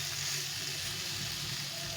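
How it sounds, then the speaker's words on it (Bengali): Lentils fry in a pan with a constant, dense sizzle that holds at an even level throughout, close and uninterrupted. "ডালটা দেখো ভালো করে ভেজে নিয়েছি"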